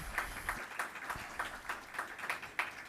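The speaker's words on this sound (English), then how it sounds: "Big round of applause for our organizers and sponsors." Audience applause for the organizers and sponsors at the opening of an Indigenous ceremony, steady and moderately distant clapping from a crowd, with no talk.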